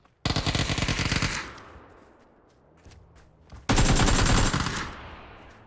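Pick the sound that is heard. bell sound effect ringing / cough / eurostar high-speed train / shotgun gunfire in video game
shotgun gunfire in video game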